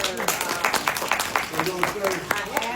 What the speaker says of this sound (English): I want to give Lachey Hudson a round of applause